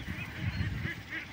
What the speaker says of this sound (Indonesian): Ini bebek meri kita, atau bebek usia 2 bulan kita,